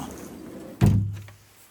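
A single heavy thunk as an under-stairs storage door swings shut in a house, with a short low resonance fading afterward; quiet room tone before it.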